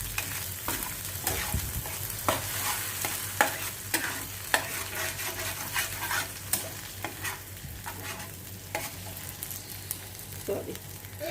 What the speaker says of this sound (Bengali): এরপর ডিমটা ভেজে দিচ্ছি। দুটো ডিম ফাটিয়ে দিলাম, এটা একটু স্ক্র্যাম্বল টাইপের করে দিচ্ছি।